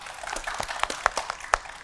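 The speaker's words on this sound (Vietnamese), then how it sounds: "Ok, vỗ tay." A small studio audience at a televised Vietnamese matchmaking show claps and applauds briefly, with scattered, fairly faint handclaps.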